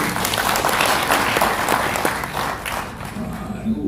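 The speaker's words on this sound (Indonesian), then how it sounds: "Tepuk tangan lagi." Applause from a crowd, a dense steady patter of clapping that fades slightly toward the end, with some voices mixed in.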